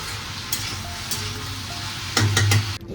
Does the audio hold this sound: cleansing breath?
no